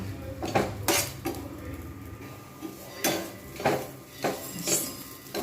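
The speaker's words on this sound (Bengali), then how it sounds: "এরকমভাবে আমি কিন্তু কন্টিনিউ নেড়ে নেব।" A spoon scraping and clinking against a pan while butter melts on a gas stove for a homemade sandwich, a series of separate metallic taps and scrapes with quiet pauses between them.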